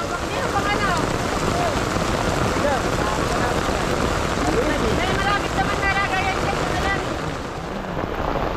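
Heavy storm rain pours down at an outdoor fishing tournament of the Marikina Angler's Club, a dense, steady close roar that fills the whole stretch, with faint voices now and then beneath it.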